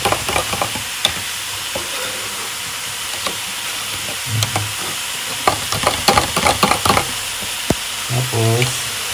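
Shrimp cooking in coconut milk in a pan sizzle steadily while a utensil stirs and scrapes, giving clustered clinks and scraping bursts close up, with no talking.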